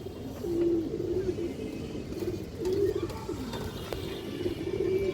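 A male silver Bagha pigeon coos in a repeated, rhythmic series of low, throaty calls, close by, with a steady murmur of background noise underneath.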